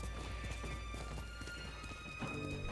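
Horse hooves clip-clop steadily in the video game Ghost of Tsushima, a continuous galloping rhythm under ambient game music and sound effects, fairly close and even in loudness throughout.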